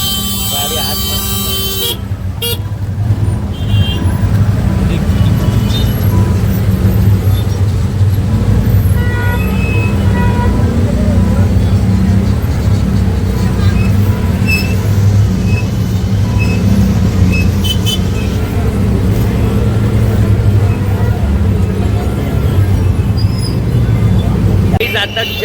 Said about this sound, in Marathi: कारण खूप ट्रॅफिक होती